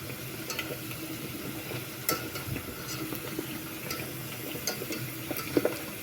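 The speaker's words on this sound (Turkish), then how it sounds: "Şöyle arkalı önlü güzelce kızartıyorum." Potato slices fry in hot oil in a pan, giving a soft, continuous sizzle with scattered small pops and occasional clinks of stirring, fairly quiet and close.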